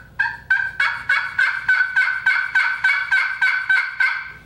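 Holland custom friction turkey call worked with an Asagi Orange striker, giving about a dozen raspy hen yelps in an even, steady rhythm, close and loud with no talking.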